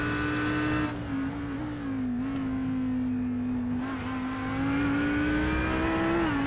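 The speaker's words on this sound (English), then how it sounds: "Engine sound better in a cockpit than exterior." A race car engine in the iRacing sim during an endurance race at Road America holds a steady, loud, buzzing drone with a strong pitched tone that dips and rises slightly as revs shift, without any talk.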